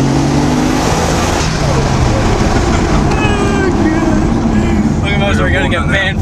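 A Nissan Skyline GT-R R33 revs hard through a burnout, its engine roaring loud and close with rising and falling pitch while tyres squeal near the end and people talk over it.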